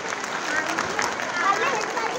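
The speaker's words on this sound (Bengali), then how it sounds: "সবাই একটু হাততালি দেবেন।" An audience claps at a school prize-giving ceremony: a steady, dense patter of many hands, fairly close, with voices mixed in throughout.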